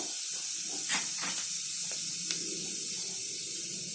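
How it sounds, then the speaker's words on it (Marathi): Quarter teaspoon of cumin seeds dropped into two tablespoons of heated oil for a red pumpkin bhaji, giving a steady soft sizzling hiss with a few brief crackling bursts, close and moderately quiet, with no talking. "इथे मी पाव टीस्पून जिरं घालते"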